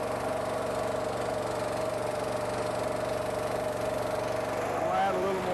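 A Harley walk-behind power box rake engine runs with a steady, close, droning hum that holds constant, then shifts slightly near the end as the throttle is raised.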